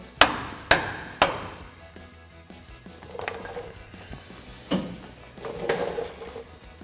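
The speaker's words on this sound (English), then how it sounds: "I'm just gonna get a block of wood and a rubber mallet to just tap it in the rest of the way." A rubber mallet strikes a wood block to seat an exhaust pipe on a RAM 1500 Flowmaster Outlaw dual exhaust, three sharp close knocks in quick succession followed by a few softer, scattered taps.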